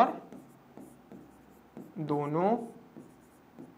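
Pen or chalk writing out integration steps, with soft scratching strokes in short bursts, close by and faint, heard under someone speaking.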